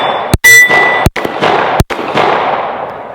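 Kimber KDS9C 9mm pistol fired outdoors at a steel squirrel target, three sharp loud cracks spaced about 0.7 seconds apart, each followed by a ringing metallic clang and a lingering echo.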